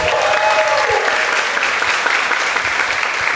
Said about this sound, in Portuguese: Vamos receber com palmas esses irmãos.